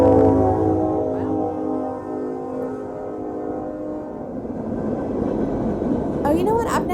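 A train passes nearby with a loud sustained horn-like tonal drone that slowly fades into rumbling, rattling rail noise, then a few higher squeals toward the end.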